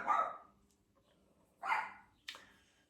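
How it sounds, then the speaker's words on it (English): A guard dog barks three times from a short distance, with pauses between the barks and the last one sharper and shorter. No one speaks. "That's the other guard dog."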